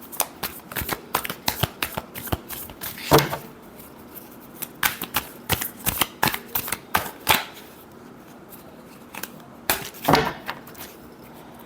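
Tarot cards are shuffled by hand in repeated quick riffles and snaps, crisp close bursts with short pauses between them, and almost no speech.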